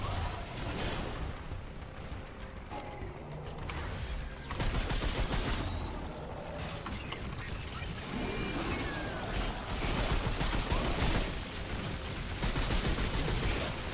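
Turret gunfire in Remnant II: rapid, sustained volleys of shots with sharp bursts that rise and fall, mixed with other combat noise, fairly quiet overall.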